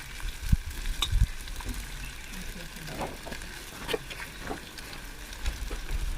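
Onions sizzle and crackle steadily in a hot pan, with occasional clinks and scrapes of stirring close by.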